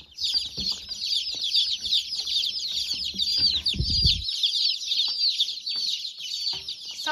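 Newborn chicks in a nursery give a dense, continuous chorus of high, shrill peeping close by, steady throughout with a brief low thump partway through.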